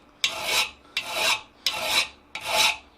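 A hand file rasping across a small square flat butcher tool for metal chasing, four even back-and-forth strokes, each a close, bright scraping pass followed by a brief pause.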